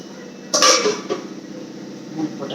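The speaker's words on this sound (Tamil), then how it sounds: "மூடி போட்டுடலாம்." A metal lid set onto a pot of dried-fish kuzhambu simmering on the stove, one sharp clatter followed by a brief second clink, close and fairly loud over a low steady hum.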